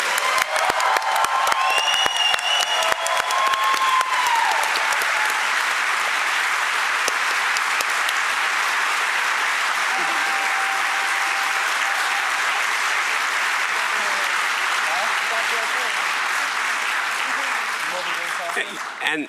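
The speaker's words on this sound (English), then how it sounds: "if we can even do a bit of a bigger round of applause for all of the people who came today to speak" A large conference audience gives a long, loud round of applause at a plenary session, dense sustained clapping with a few cheers at the start, holding steady for nearly twenty seconds before tapering off at the end.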